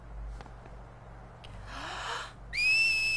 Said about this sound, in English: You know how to whistle, don't you?